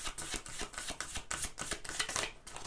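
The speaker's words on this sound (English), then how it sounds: "let's give this another shuffle" A deck of cards is shuffled at close range, with dense rapid riffling clicks and soft slaps repeating in quick waves throughout.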